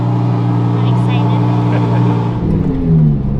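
A rebuilt Lamborghini, previously crashed, drives with a steady engine drone and a rise in revs near the end, heard from inside the car under some voice.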